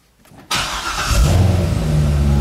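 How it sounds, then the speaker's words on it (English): A Chevrolet Corvette engine cranks and catches about half a second in, then swells into a loud, steady idle with a slight rev, heard up close with no talking. "I'm going to start it so we can confirm the customer's complaint."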